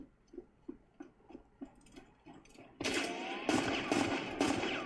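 Gunfire in the video game Hunt: Showdown, a series of soft regular thumps followed by a dense, loud burst of overlapping shots and blasts that fills the rest of the moment.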